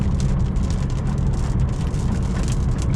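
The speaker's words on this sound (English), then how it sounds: "Yo, it's starting to rain, bruh." Rain patters steadily on a BMW 440i while driving in New York City, a dense close hiss of drops on the car over low road rumble, with no talking.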